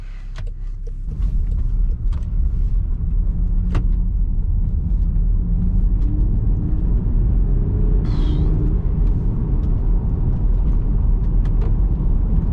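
A 2021 Land Rover Defender 90 heard from inside the cabin as it pulls away and drives, a steady low engine and road rumble after a brief quieter start, with a few small clicks.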